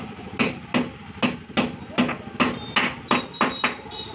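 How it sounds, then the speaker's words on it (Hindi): A hammer presses a bearing into an e-rickshaw handle with about ten sharp metallic taps in a steady rhythm, close and clear, with no talking. "तो थोड़ा सा इसे हथौड़ी से प्रेस करना है"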